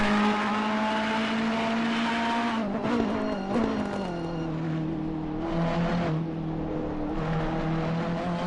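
A 51 Ferrari race car at full throttle through the S's at Oulton Park, a sustained high engine drone with shifting pitch and brief changes as it passes, steady and fairly distant without talk.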